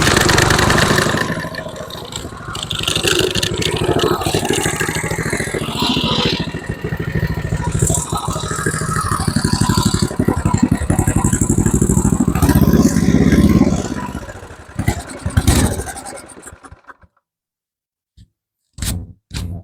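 Tecumseh Snow King snowblower engine, restored after a carburetor rebuild, starting up and running loud with a rough, clattering idle for several seconds before cutting out, followed by silence and a few faint knocks.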